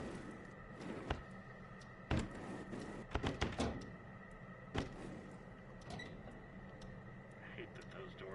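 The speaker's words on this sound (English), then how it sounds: "I hate that those doors are just now closing." Doors in the video game Killer Frequency closing with several dull thunks and a sliding rumble, scattered over a steady background hum of game ambience.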